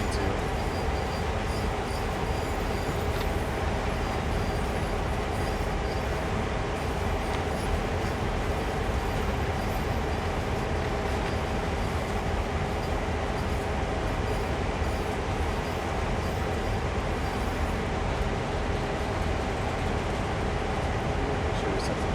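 A CSX GP38-2 diesel locomotive slowing to a stop in Train Sim World, with a dense steady rumble of engine and rolling wheels close up, a constant even drone with no clear pauses.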